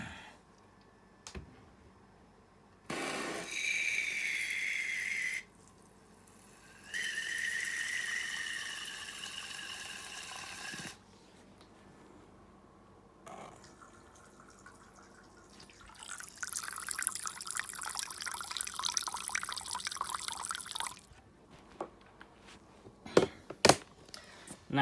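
Water pours into a tarantula's small water bowl in several close bursts of steady splashing and trickling, separated by quiet gaps with scattered clicks and handling sounds, ending with a longer, rougher pour and a few knocks.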